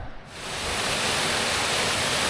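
A small waterfall on a foggy winter walk in the Lake District, a steady broadband rush that swells in within a moment and holds close and full, with no talking.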